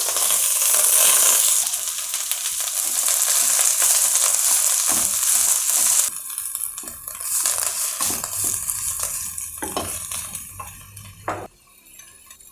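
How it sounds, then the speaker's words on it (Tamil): Coriander leaves sautéed in a pan give a steady loud sizzle and stirring scrape at first, then calmer sizzling with occasional spoon and pan clinks. "கொஞ்சம் கொஞ்சமாக வதக்கலாம்."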